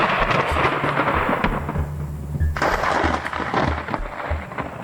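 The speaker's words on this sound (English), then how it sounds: "you'll find yourself right in the middle of a lightning barrage, where all you can do is pray that you're not hit" Thunder from a close lightning strike during a severe tornado-producing storm, a loud continuous rumbling roar that swells into a sharp crackling burst midway, with rain noise in the background and no talking.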